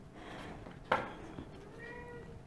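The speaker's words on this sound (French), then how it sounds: "Ah, c'est le chat." A house cat gives one short, faint meow indoors against a quiet room background, a brief single call with a softer sound following.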